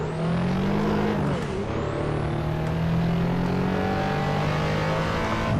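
Car engine revving hard under acceleration in the racing game Assetto Corsa, a loud, continuous roar with rising and shifting engine pitch and gear changes, no voices.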